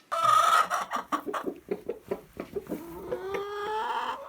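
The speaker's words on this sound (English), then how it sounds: "you'll find examples for pretty much every chicken sound you've ever heard" Backyard chickens clucking close by in a rapid series of short calls, the notes quickening and then stretching into a longer drawn-out call at the end.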